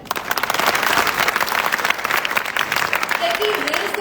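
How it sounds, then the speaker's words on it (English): Audience applause, a dense steady patter of many hands clapping at an even loudness for the whole stretch, fairly close, with a faint voice surfacing near the end. "Can I get again a big round of applause?"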